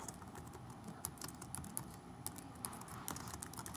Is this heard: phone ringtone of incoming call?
no